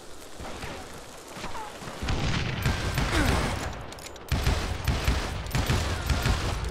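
Rapid volleys of gunfire from the Western shooter Call of Juarez crack out loudly in dense, overlapping bursts, with heavier booming shots kicking in partway through and continuing to the end.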